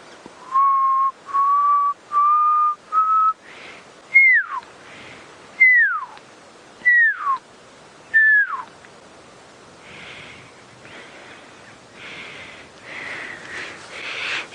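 A person whistles an imitation of the pearl-spotted owlet's call on a sunset safari drive. It is a clear close series of about a dozen pure notes: steady, slowly rising tones at first, then a run of sharply falling slurs, with softer breathy sounds after.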